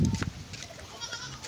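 A short goat bleat close by, fairly quiet, with faint background noise around it.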